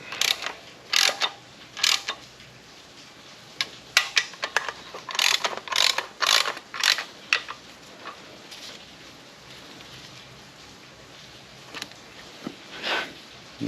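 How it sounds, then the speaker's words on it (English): A ratchet clicks in short bursts as bolts are tightened while a York air compressor is mounted on a 3.4 L Toyota V6, with quick metallic clatter separated by pauses. "Okay, and now I'm going to tighten everything up."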